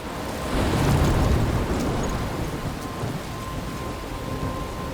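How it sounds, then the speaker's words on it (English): Steady rain pours down in a thunderstorm within the video game Life is Strange, with a low rolling rumble of thunder swelling early and then easing into a constant wash of rainfall. "I'm trapped in a storm?"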